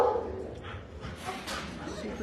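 Small dogs in a shelter kennel yip and bark in short bursts under ongoing speech, the sounds echoing faintly against a steady background.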